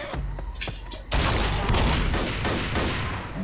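Shotgun blasts in the zombie shooter Left 4 Dead: a few quiet pops, then a loud, sustained burst of heavy gunfire filling the rest of the moment.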